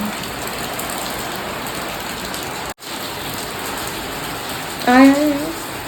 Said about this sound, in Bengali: বাইরে কত বৃষ্টি পড়ছে